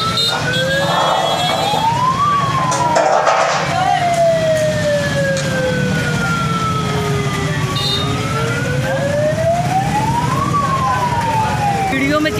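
An ambulance siren wails, rising and falling in long sweeps over continuous traffic noise in a congested market street, loud and fairly near.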